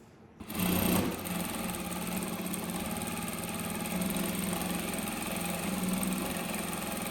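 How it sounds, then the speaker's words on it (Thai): A SHUNFA A8F computerized sewing machine running a backstitch, starting abruptly after a click and then whirring steadily with a fast, even motor-and-needle hum, close up and alone. "เราสามารถใช้มือนะครับ กด จักรก็จะย้ำให้เรานะครับ"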